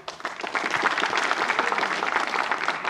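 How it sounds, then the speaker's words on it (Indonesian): A live stand-up comedy elimination show's audience breaks into steady, dense applause that holds at full strength for about three seconds, with many hands clapping at once and a faint crowd murmur underneath. "boleh minta tepuk tangannya sekali lagi?"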